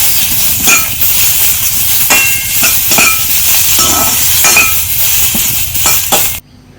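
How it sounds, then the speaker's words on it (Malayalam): Steady hissing sizzle of tomatoes sautéing in a pan, with a few scraping stirs and clinks throughout, then an abrupt stop. "തക്കാളി ഇത് വേവണ വരെ നല്ലോണം വഴറ്റി കൊടുക്കുക"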